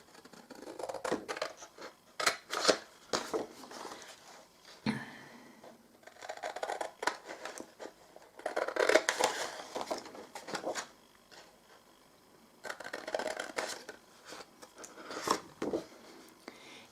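Scissors cutting the corners of cardstock: close, crisp snips in short bursts of several cuts, separated by pauses, each burst a quick run of crunchy clips through the thick paper.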